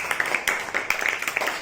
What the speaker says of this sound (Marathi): त्यासाठी जोरदार टाळ्या वाजवा सगळ्यांनी